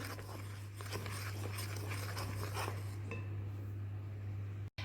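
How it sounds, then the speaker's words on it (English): A spoon works through an egg-free chocolate cupcake mixture with cocoa powder and chocolate chips in a bowl, giving repeated scraping and clinking strokes over a steady low hum. "Stir the mixture."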